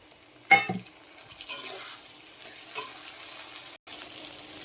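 Tomato dropped into spice paste frying in a pan on an Indian home stove, a sharp burst of sizzle followed by a steady, fairly quiet hiss that keeps bubbling.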